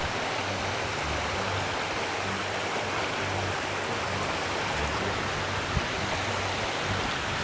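A monsoon waterfall at Lonavala plunges straight down into a deep gorge. It makes a steady, dense roar that stays constant and unbroken throughout, heard alone without voices.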